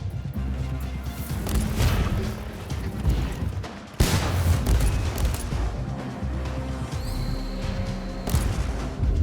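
Warhammer 40,000: Inquisitor – Martyr combat fills the scene with heavy gunfire and crashing impacts, a loud, continuous barrage broken by a sharp hit partway through and another burst near the end.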